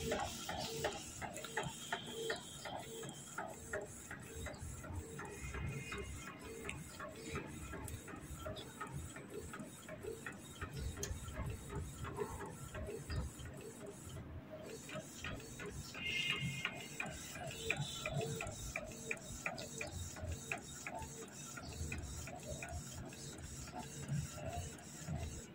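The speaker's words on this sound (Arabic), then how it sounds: "وبتنتظر ثواني بس لحد ما الطابعة تطبع الصورة" A Canon Pixma G540 inkjet printer prints a photo, with rapid rhythmic mechanical clicks and whirring carriage movement running steadily throughout, briefly pausing about midway.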